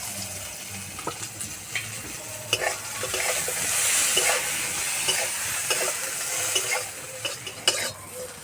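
Eggplant frying in oil in a pan, a sizzle and crackle with repeated clinks and scrapes of stirring and a brief surge of hissing in the middle.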